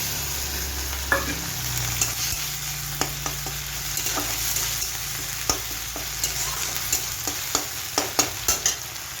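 A paste of ginger, cumin and green chili fries in a pan for an egg curry, with a continuous sizzle broken by sharp spatula scrapes and taps that quicken toward the end.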